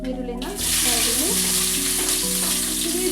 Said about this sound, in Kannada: ಇವಾಗ ನಾನು ಹೆಚ್ಚಿಟ್ಕೊಂಡಿರೋ ಈರುಳ್ಳಿನ ಹಾಕ್ತಾ ಇದ್ದೀನಿ.